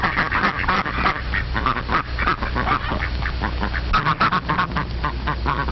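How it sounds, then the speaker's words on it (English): Farm ducks quack in a noisy, overlapping chorus, many harsh calls close by in a fast, continuous jumble, with honking geese mixed in. "Ducks."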